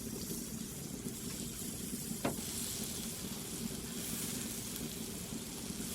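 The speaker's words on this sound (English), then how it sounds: "Again, I'm just looking to kind of sear these up." Country style ribs sear in butter on a hot flat top, giving a steady, close sizzle throughout with one brief scrape partway through.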